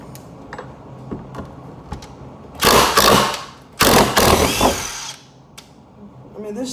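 A Makita XDT13 impact driver drives out a screw in two loud, rattling bursts of hammering, each lasting about a second, with quieter handling noise before and after.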